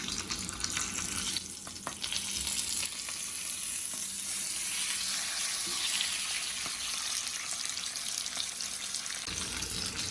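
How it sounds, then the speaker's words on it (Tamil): Masala fish pieces frying in oil, a dense, continuous hiss and crackle held close and loud throughout, with a brief soft knock as a piece is turned, no voices. "ஒரு பக்கம் பொரிஞ்சிருச்சு. அடுத்த பக்கம் பொரியலுக்கு திருப்பி போட்டுக்கலாம்."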